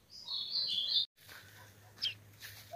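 A young rufous-collared sparrow sings bright, high chirping phrases with brief pauses, faint against a low steady background hum, on a cold, cloudy day.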